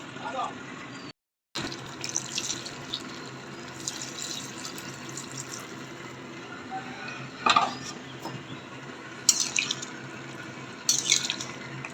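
Hot water is poured over potatoes in a home kitchen, with intermittent splashes and light clinks of pots and utensils over a low background hum, broken by a brief gap of silence near the start.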